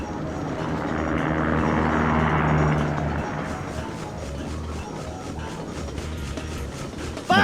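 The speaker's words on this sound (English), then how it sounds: "I just got killed by the helicopter" A helicopter in a PlayStation game demo, a loud continuous rotor and engine drone that swells for a few seconds and then eases into a steadier, slightly thinner whine.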